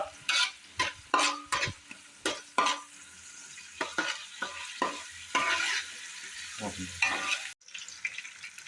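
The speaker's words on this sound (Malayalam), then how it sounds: "രണ്ട് പിടി ചെറിയ ഉള്ളിയാണ് വലിയ ഉള്ളി സവോള നമ്മൾ എടുക്കുന്നേ ഇല്ല ഇനി ഇത് നല്ലപോലെ ഒന്ന് വഴറ്റുക" Two handfuls of small onions, shallots, sautéing in a pan for a chicken roast, with regular close spatula strokes scraping and stirring in a rhythmic series over a low frying hiss.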